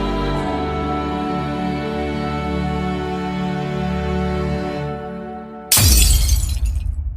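A loud glass shatter bursts in abruptly near the end, with a bright crash and scattering fragments that cut over a sustained, droning musical bed that fades just before the break.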